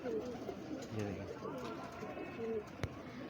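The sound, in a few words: pigeons cooing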